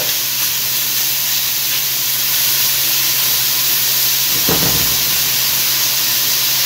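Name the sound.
steak for Philly cheesesteak searing in a hot pan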